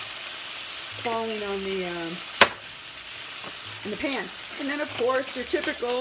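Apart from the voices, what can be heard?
spices sizzling in frying pan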